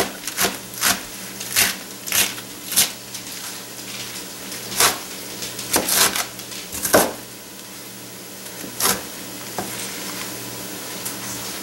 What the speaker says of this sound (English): And I'm just going to keep chopping like this.